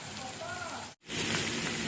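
Soaked dried fish being washed gives a continuous close splashing and trickling of water, broken by a brief silent gap in the middle, with a faint voice underneath.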